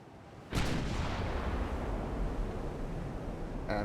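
Naval gunfire in the warship game Ultimate Admiral: Dreadnoughts: one heavy, booming report lands just after the start and rolls into a long, low rumbling wash of sound, moderately distant.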